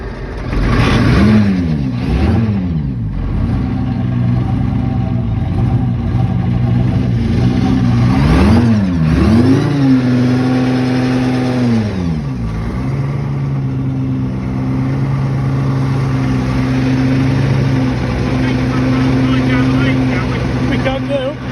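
An Alvis Stalwart military truck's engine runs nearby, loud and rumbling, revving up and dropping back several times before settling into a steady idle, with people talking over it.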